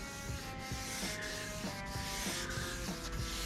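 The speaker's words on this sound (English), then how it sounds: "I'm kind of sanding off the high spots and leaving that oil sit." Sandpaper rubbing along a wooden guitar neck finished with Danish oil, a quiet, steady back-and-forth scratching with soft strokes about every half second, close up and without any talk.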